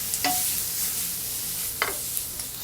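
Food frying in a pan, a steady bright sizzle with two short scraping clatters as the pieces are flipped, close and fairly loud.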